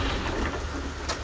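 Rain falling outside a workshop beside a parked 1987 John Deere 3140 tractor, a dense, even hiss of drops on surfaces that runs unbroken and fairly loud through the whole short stretch.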